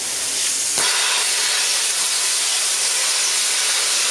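A non-pilot arc plasma cutter torch cutting through painted metal produces a loud, continuous roaring hiss after a brief crackling start, steady and close without any talking.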